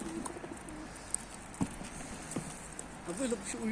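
A pigeon coos softly in the background, low gentle calls under people talking nearby with some light ambient noise.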